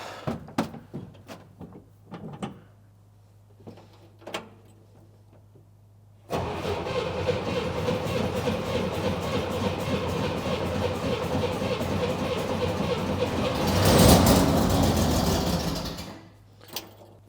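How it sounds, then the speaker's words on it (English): A bagged and chopped Chevrolet Corvair cranks in a few short bursts, then its engine catches and runs steadily at a close, loud idle, swelling briefly before cutting off. "We've got to crank on it a little bit to get this thing started."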